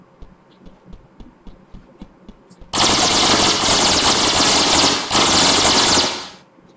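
A weapon in a video game fires a long, dense, continuous burst of rapid automatic gunfire, loud and close, after a few soft ticks, cutting off abruptly.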